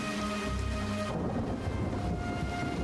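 Heavy rain and rumbling thunder from a Rogue One movie scene, a steady downpour hissing throughout with a deep low roll of thunder under tonal score in the first second, no voices.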